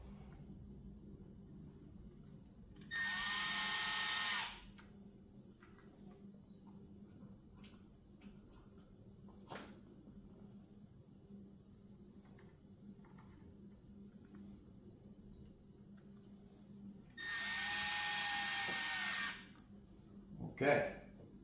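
Small screws are driven back in with a power driver on a C6 Corvette paddle shifter assembly, two loud whirring bursts separated by a long quiet stretch of faint background noise.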